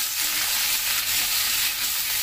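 Sweet pumpkin frying in hot oil in a village kitchen gives a steady, close, even sizzle with no speech over it.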